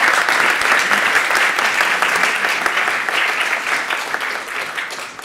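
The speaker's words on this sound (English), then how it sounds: "Let's give them actually applause for their comments." Steady audience applause at a talk on Iceland's external affairs, a dense, even wash of many hands clapping that holds loud for several seconds, then begins to thin and fade toward the end.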